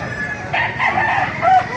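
A rooster among chickens kept in Baliuag, Bulacan crows in one drawn-out, wavering call, fairly close and clear over a low background hum.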